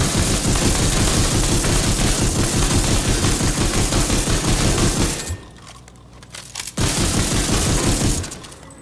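Rapid automatic weapon fire in The Division 2, a loud sustained burst of gunshots for about five seconds, a short pause, then another burst of fast firing, with no talking.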